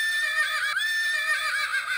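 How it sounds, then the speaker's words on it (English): A horse whinnies in a long, high, wavering neigh that rises and falls in pitch, close and clear over near silence, sounding like a bright, stylized farmyard call. "neighed the horse."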